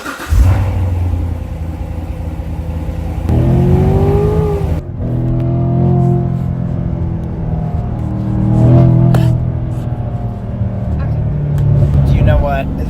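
Corvette sports car engine rumbling and revving while driving, a low steady drone that swells during acceleration, heard from inside the cabin under frequent conversation and laughter.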